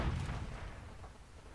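A single heavy boom from a tank firing an HE shell in World of Tanks, with a deep low rumble that fades quickly.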